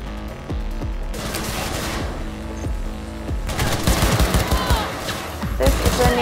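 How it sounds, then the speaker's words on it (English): Rapid bursts of gunfire from a NATO gun in Cyberpunk 2077, loud and close, with repeated volleys that thicken toward the end amid a busy combat soundscape. "This is a NATO gun."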